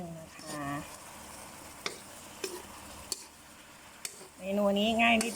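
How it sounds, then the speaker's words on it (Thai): Meatballs being stir-fried in a pan with seafood dipping sauce, giving repeated scraping clicks of a utensil and a soft sizzle, with someone talking over parts of it. "เราเลือกน้ำจิ้มซีฟู้ดแล้วก็มาผัดผัดผัดผัดผัดผัด"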